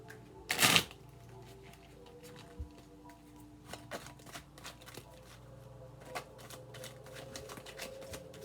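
A deck of tarot cards riffled once in a brief, loud burst, followed by quieter scattered taps and clicks of cards being handled.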